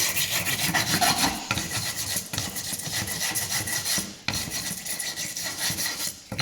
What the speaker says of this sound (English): And a bit more sanding.